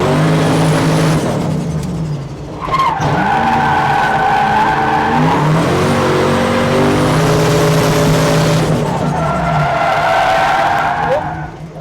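Tyres squeal loudly in long sustained screeches as a Nissan 200SX with a 4.0 V8 drifts, the engine revving hard nearby, the pitch rising and falling through repeated slides.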